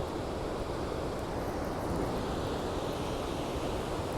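Steady, broadband roar of ocean surf on a cold San Francisco shore, continuous and fairly faint, blended with wind across the microphone, with no voices.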